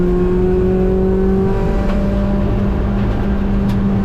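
A race car on track at GingerMan, its engine holding a loud, close, sustained drone under throttle with a shifting pitch as it accelerates, and no talk.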